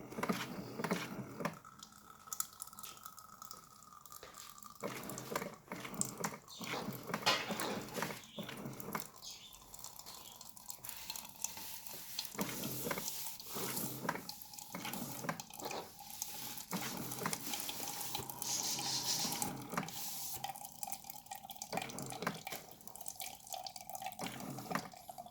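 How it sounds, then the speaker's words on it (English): Keurig coffee brewer draining water during descaling, a steady trickle and splash running through the whole stretch with intermittent louder gushes, close and moderately loud, with no talking. "I'm just gonna empty it out one more time, and it should go a lot quicker now"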